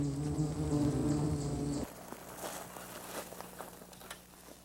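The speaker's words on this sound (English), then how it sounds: "Jim's first call takes him to an underground colony of western yellowjacket wasps" Western yellowjacket wasps swarm at an underground colony, a dense insect buzz loud at first and then dropping to a thinner, fainter hum with scattered passing buzzes.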